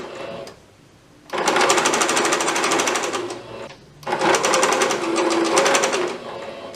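A sewing machine stitches the seam of a plush teddy bear comforter in two long rapid bursts of fast rhythmic needle chatter, close and loud, with a short pause between the runs.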